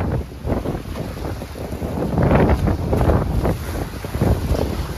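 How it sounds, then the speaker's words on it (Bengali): Strong wind buffeting the microphone beside the Padma river during heavy bank erosion, with waves surging and splashing, a loud rough roar that swells and fades in gusts, no talk. "ঢেউ, বাদল, বাতাস প্রচুর পরিমাণে"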